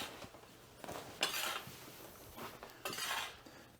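A hoe with holes cut through its blade scrapes and rasps through potting soil in a few short, gritty strokes, close and fairly quiet.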